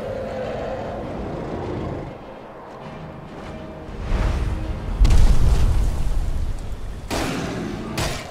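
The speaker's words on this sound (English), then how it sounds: "Yeah, we all know you can breathe fire." In the Skyrim video game, a dragon's fire breath roars out in a few heavy, rumbling bursts, booming close and loud amid crackling game effects.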